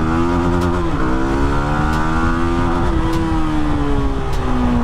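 A GPX Demon 165R sports motorcycle accelerates hard, its engine note climbing steadily in pitch with a brief dip at a gear change, loud and continuous with no talking.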